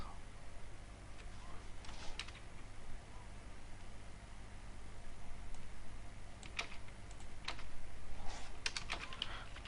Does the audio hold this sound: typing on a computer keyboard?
yes